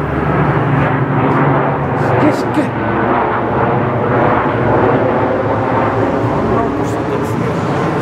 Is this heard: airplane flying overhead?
yes